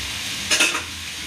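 Brinjal masala ingredients fry in a pan with a soft continuous sizzle, broken by one brief scraping stir of a spatula.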